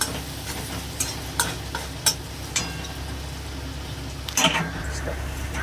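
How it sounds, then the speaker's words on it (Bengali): Onions frying in a pan for potol posto make a constant sizzle, broken by sharp spatula scrapes and clinks at irregular intervals. "পেঁয়াজটা একটু ভাজা ভাজা হয়ে যায়"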